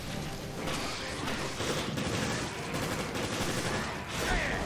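Rapid pistol gunfire in Resident Evil Revelations comes as a dense run of close, sharp shots, repeated bursts over several seconds amid game noise and someone talking.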